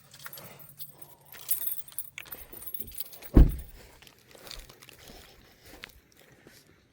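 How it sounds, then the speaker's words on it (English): Car keys jangle and clink as they are grabbed from a spot in a house, with one sharper clatter midway among quieter rustling and handling sounds. "I'm gonna grab my keys."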